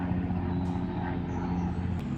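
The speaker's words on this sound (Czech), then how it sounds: "Vrtulník letí." A helicopter flying overhead gives a steady, low droning thrum with a faint rhythmic chop that stays fairly loud and constant throughout, with no clear talk.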